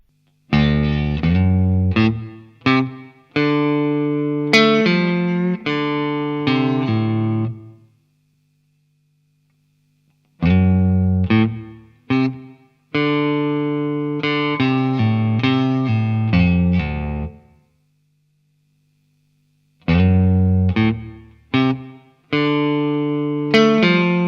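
A staccato electric guitar riff with a swirling phaser effect plays in short, clipped chord bursts, repeating in three phrases separated by brief pauses.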